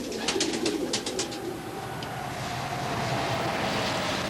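Racing pigeons coo in a fancier's loft in northeast England, a few soft throaty calls near the start against steady background noise, then a continuous low rumble carrying on alone.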